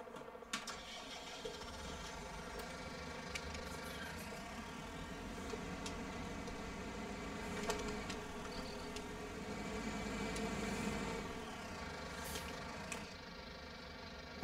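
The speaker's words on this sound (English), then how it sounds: "brand new tractor." A new Ulysses C3120 tractor idles in Farming Simulator 19, with a steady droning engine hum and a tonal whine that runs evenly throughout, alone and without talk.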